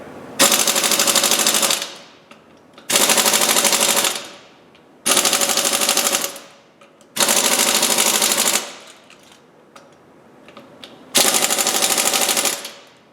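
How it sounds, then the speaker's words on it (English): Impact gun driving a wheel's lug nuts through a torque stick to 100 foot-pounds: five loud, rapid hammering bursts of about two seconds each, separated by short pauses, close and with no talking. "our wheel has been torqued down to 100 foot-pounds via the torque stick and the impact gun"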